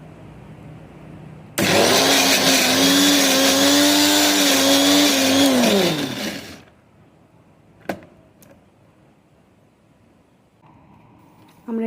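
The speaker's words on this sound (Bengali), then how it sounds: "তো আমি তিলের সাথে কিছু পেঁয়াজ আর লঙ্কাও অ্যাড করে নিয়েছি, সব একসাথে গ্রাইন্ড করবো" A NutriPro blender grinds sesame seeds with onion, chili and water, a loud close whirring roar of about five seconds that starts abruptly, dips slightly in pitch under load, then cuts off, followed by a few small clicks and quiet room tone.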